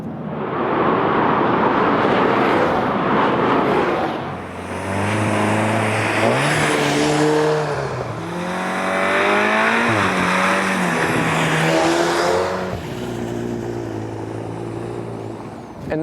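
A Volkswagen Golf GTI TCR race car is driven hard around a racetrack, its engine climbing repeatedly through the gears with loud rising revs, shifts and brief tire noise, close and continuous.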